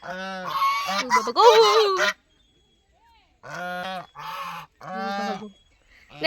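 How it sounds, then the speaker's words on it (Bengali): Loud, nasal geese honking up close at a deer park in Mukutmanipur: a noisy cluster of calls, a pause, then three separate honks. "গাছ এখানে রাজহাঁস আছে"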